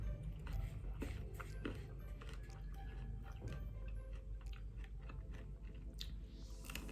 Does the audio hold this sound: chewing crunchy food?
yes